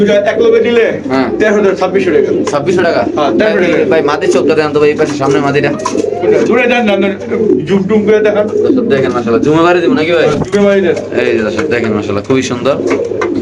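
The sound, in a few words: pigeons cooing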